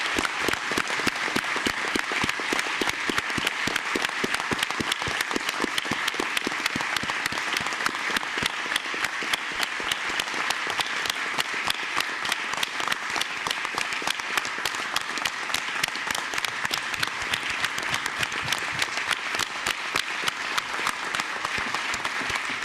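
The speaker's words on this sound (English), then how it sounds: "And we all give him a big round of applause." Sustained applause from a state legislative body during a floor commendation honoring a retiring colonel, dense and steady clapping filling the chamber for over twenty seconds without speech.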